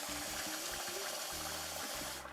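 Food for blue corn New Mexico enchiladas being pushed underwater: steady, close rushing and gushing water with a low burbling, then a brief change as it ends.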